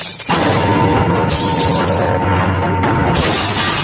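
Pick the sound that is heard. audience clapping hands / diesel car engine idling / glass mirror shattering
glass mirror shattering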